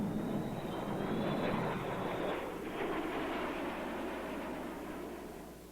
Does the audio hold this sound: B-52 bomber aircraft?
yes